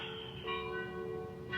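Distant church bells ring with sustained, overlapping tones that swell and fade, a soft and faraway chime with no voices present.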